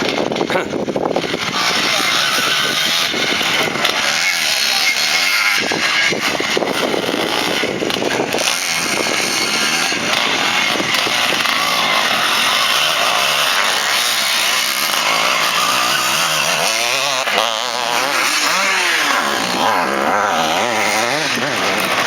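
A Honda enduro motorcycle races through a tight corner at a memorial enduro event, its engine a loud, continuous buzzing rasp that rises and falls as the rider weaves, with a commentator talking over it throughout.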